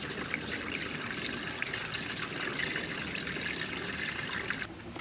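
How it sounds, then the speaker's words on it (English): Coolant pours steadily into a Ford Transit 350 3.7L V6 reservoir in a continuous trickling stream, close and fairly soft, ending abruptly at the very end. "we're going to pour in until we get to the max line on the reservoir"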